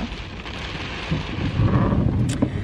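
Steady rain falling outdoors with gusts of wind, a continuous close wash of patter that swells slightly louder partway through, with a brief sharper burst near the end.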